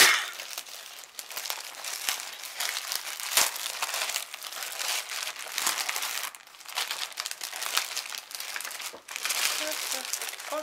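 Wrapping paper on an advent calendar gift crinkles and rustles loudly up close, in repeated bursts of crumpling and tearing with brief pauses, while a person talks at times.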